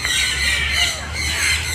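A shrill bird call squawks and squeals at a wildlife park, fairly close and steady for a couple of seconds over a low background hum.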